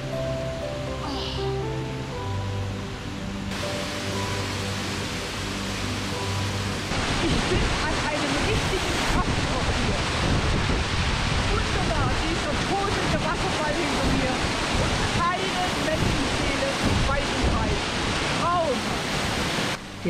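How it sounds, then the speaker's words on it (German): Waterfalls cascade over jagged rocks beside a mountain lake, a loud, continuous rushing roar that swells and fills the scene, with faint brief sounds early on before the water takes over. "Die Wasserfälle stürzen über die zerklüfteten Felsen tosend oder auch manchmal klein und plätschernd hinab."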